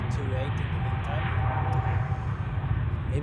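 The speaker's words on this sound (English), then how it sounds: "ULS A310 has departed on runway 28 in the meantime." An Airbus A310 roars steadily on departure from runway 28 at Zurich Airport, a broad, continuous jet engine rumble heard from a distance and filling the whole stretch without letup.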